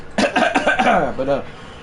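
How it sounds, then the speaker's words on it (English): A man coughs several times in a quick, rough burst close to the microphone, with some throat clearing, while commentating a baseball video game. "I cannot go through a sentence without coughing."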